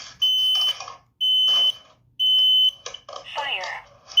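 Kidde combination smoke and carbon monoxide alarm sounding during a monthly test, with three loud, steady, piercing tones separated by short pauses, followed by a spoken voice warning from the unit.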